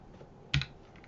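Single soft keystroke on a computer keyboard while entering a password, one brief close click in otherwise quiet surroundings.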